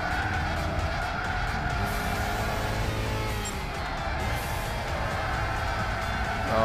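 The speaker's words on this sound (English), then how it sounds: "Oh, this braking is sloppy." Race car tires squeal and skid under braking in Gran Turismo 6, a steady loud engine roar running throughout with drawn-out screeching layered on top.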